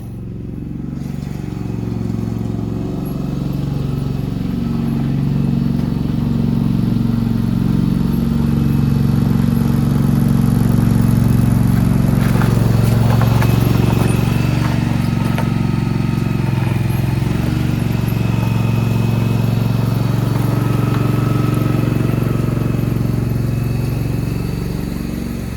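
A battery-powered tire inflator runs steadily while filling a flat tire, a loud continuous motor drone with a rattling buzz that holds throughout without pause.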